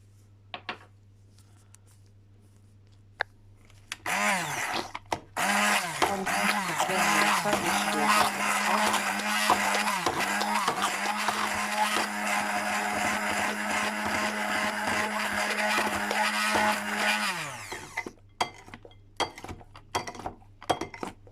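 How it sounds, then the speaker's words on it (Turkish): An electric mixer whirs through carrot cake batter made with grated carrot, a loud, steady motor drone that starts abruptly and runs for about thirteen seconds with brief dips. It then cuts off, leaving faint clinks and kitchen sounds. "püre haline gelene kadar karıştıracağız arkadaşlar"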